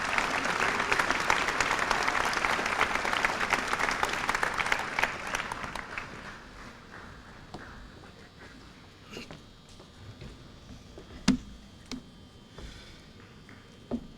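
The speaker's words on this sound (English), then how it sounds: "Let's give all these people a round of applause again." Audience applause at a 1993 senior academic recognition ceremony, a dense roar of clapping that fades out over about six seconds and leaves scattered claps and room noise.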